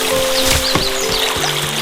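Rushing water in a forest waterfall scene for a children's bedtime story, a loud, steady pouring and splashing wash with faint tonal notes layered over it, heard alone.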